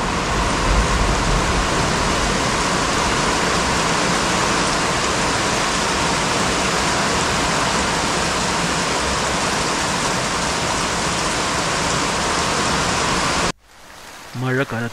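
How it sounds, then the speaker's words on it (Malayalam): Heavy rain pouring down in a Wayanad forest setting, a dense, loud, steady roar that continues unbroken for most of the stretch before cutting off abruptly near the end. "മഴ കനത്തു, ഇരുൾ മൂടി"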